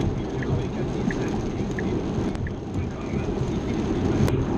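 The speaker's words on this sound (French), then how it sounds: "il pleut quand même un petit peu pas mal" Rain falls on a car driving on autopilot, a steady close wash of broadband noise mixed with road and cabin rumble, continuous throughout with faint patters scattered over it.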